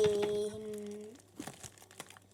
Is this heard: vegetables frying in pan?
no